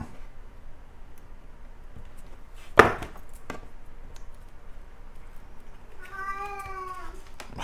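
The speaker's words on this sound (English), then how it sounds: "Here goes my cat." A house cat meows once, clear and fairly close, with a rising-falling tone near the end, following a sharp knock or clatter in an otherwise quiet room.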